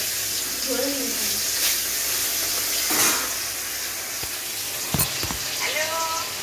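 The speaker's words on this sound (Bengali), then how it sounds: "মাছগুলো ভাজা বসিয়ে দেবো" Fish frying in hot oil in a home kitchen, a steady broad sizzle throughout with a few brief clinks and scrapes, and faint voices in the background.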